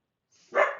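A single short, sharp bark from a pet dog indoors, close and fairly loud, rising quickly and trailing off after a brief quiet lead-in.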